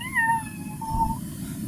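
A person imitates a cat, giving two short, close meows, the first rising and the second flatter, over a faint background murmur.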